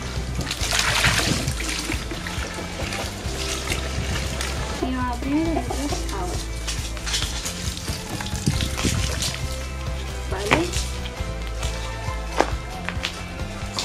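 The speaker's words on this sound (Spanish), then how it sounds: "Y vamos a poner el agua." Water pours and trickles into a chicken coop's drinker, a close splashing stream with short gurgles, while a person talks over it and chicks peep faintly.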